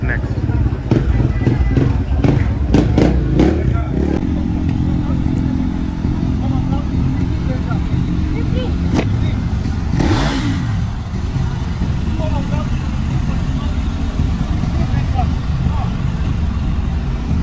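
600cc superbike motorcycles at a racing event, engines revving and whining at a distance, with one bike passing by more loudly midway while someone talks continuously over the sound.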